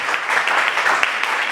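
A congregation at a Thursday worship service in church applauds, with dense, continuous clapping from a crowd throughout the short moment and no voices standing out.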